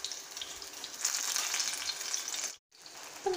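Banana fritters frying in hot oil, a steady close sizzle and crackle throughout with a brief dip near the end, no talking.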